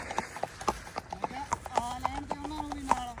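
Horse hooves clip-clopping at an even walking pace on a hard surface, a close, regular series of sharp knocks with a person's voice heard in the background.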